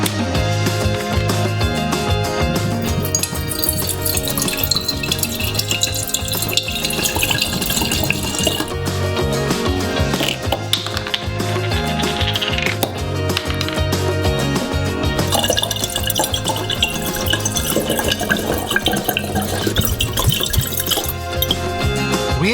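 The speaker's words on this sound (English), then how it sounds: "The last flask remains, and we will pour 2 bottles of alcohol into it" Two bottles of alcohol poured into a glass flask, a continuous close liquid splash and gurgle that runs steadily throughout with no voices.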